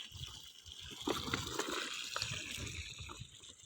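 Drinking water poured straight from a brass lota outdoors in a Rajasthan village, giving a close, continuous splashing and gurgling trickle with small slops throughout, and no talk.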